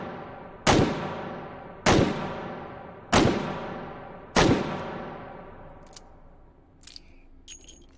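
Four loud single gunshots in the VR game Hot Dogs, Horseshoes, and Hand Grenades, evenly spaced about a second apart, each with a ringing decay, followed by faint clicks and handling noises.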